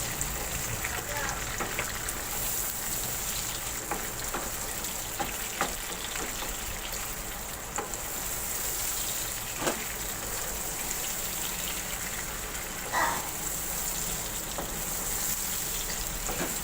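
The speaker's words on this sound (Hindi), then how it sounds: "फ्राई कर लिए टमाटर अच्छी तरह से।" Tomatoes frying in ghee in a pan for an aloo shimla mirch dish, giving a steady, dense sizzle with crackling pops throughout, close and fairly loud.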